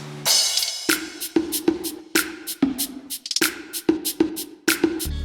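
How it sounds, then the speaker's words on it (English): Bongo hits pattern through a trap-style beat, their tonal slaps around 300 Hz repeating in a busy rhythm over crisp hats and a shaker, loud and close with no voice. "Some bongos."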